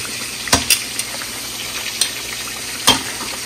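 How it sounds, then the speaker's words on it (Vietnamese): Wheat gluten (mì căn) frying in a pan gives a steady soft sizzle, with a few sharp crackles and pops standing out at close range and no talking. "Thời gian để chiên, để chiên cái này nè"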